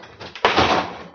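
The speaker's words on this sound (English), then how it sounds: "I just wiggled this drawer, and it finally came loose" A stuck refrigerator drawer held by built-up ice is wiggled and jerks loose with a short scraping rattle and a sudden clunk of plastic, close by and fairly loud.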